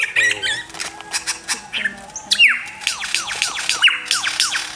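A lyrebird pours out a rapid, varied stream of mimicked calls: squawks, chirps and repeated descending sweeping whistles, fairly close and busy throughout.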